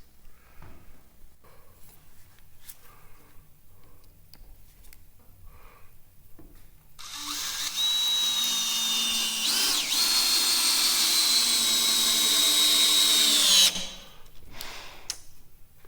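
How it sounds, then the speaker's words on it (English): A power drill drives long screws into a floor joist for a mountain cabin loft, a loud, steady whine of about six seconds rising out of a quiet room and then cutting off. "Now I can drop some long screws in there on both ends."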